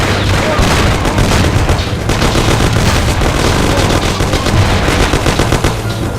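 Gunfire in a shootout in the Mafia video game, loud sustained bursts of rapid automatic shots with heavy booming reports, dense and continuous throughout.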